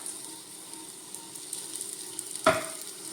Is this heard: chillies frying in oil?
yes